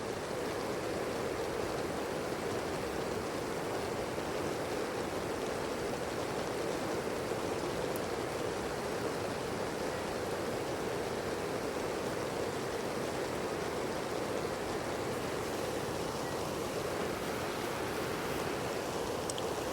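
A swollen, high-running river roars past a rainy campsite in a continuous, loud wash of rushing water with no break or voices.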